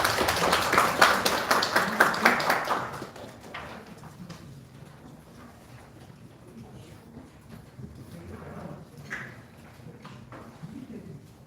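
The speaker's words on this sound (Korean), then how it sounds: "여러분 큰 박수로 청해주시면 고맙겠습니다" An audience applauds at a National Assembly forum on women workers' rights at Paris Baguette. The clapping is dense and lively for about three seconds, then thins into scattered claps and quiet room noise.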